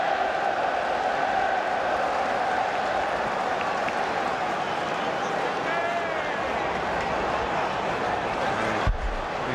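Constant roar of the Anfield football stadium crowd during the Liverpool vs Barcelona Champions League match, a broad sustained wash of noise with commentary faintly over it and a brief thump near the end.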